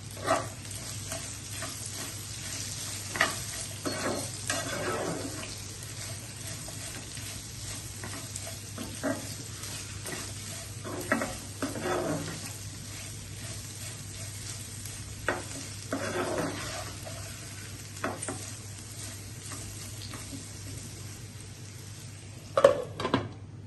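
Raw banana pieces fry in a pan, a low steady sizzle running beneath occasional scraping stirs and light clinks of a utensil, quiet and close with no speech.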